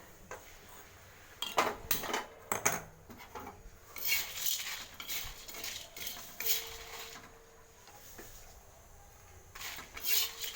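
Fenugreek seeds, coriander seeds and chana dal roasting dry in a pan while a spoon scrapes and clinks against the metal in irregular strokes, fairly quiet and close, with no talking.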